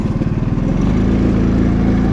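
A Honda CB 150 motorcycle engine runs close by with a steady, loud, buzzing drone that starts with a slightly pulsing rhythm and then settles into an even tone.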